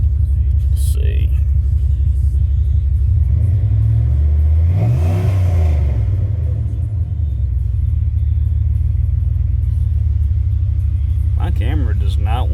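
A 1996 Dodge Ram 1500 4x4 with a 5.9 liter V8 Magnum engine idles with a deep, loud rumble, then revs up once and falls back to idle, heard up close.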